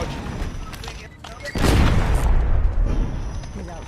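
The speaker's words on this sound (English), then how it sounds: "Activating C4 charge." A C4 charge detonates in Call of Duty Warzone gameplay, a loud, deep boom that swells midway and rumbles on for a couple of seconds, with voices talking around it.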